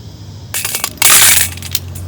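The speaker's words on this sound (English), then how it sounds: "Pellets are dropping out easy, just barely tapping it and they're falling out." Lead buckshot pellets from a Lee 18-cavity .32 #0 buckshot mold fall out in a quick metallic clatter after light taps, a short burst of small pieces rattling onto a hard surface, close and fairly bright, no voices.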